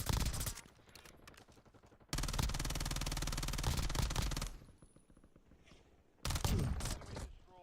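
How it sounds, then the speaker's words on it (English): Gunfire in Call of Duty, with a sniper shot among several loud bursts of shots and heavy game action, broken by quieter gaps. "Somebody just sniped me."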